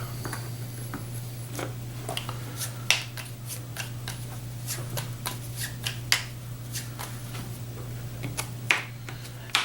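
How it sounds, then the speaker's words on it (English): A deck of One Night Ultimate Werewolf cards is shuffled by hand, giving repeated crisp riffles and snaps close by over a low steady hum, with no voices. "So what we're going to do here is go ahead and shuffle these up really good."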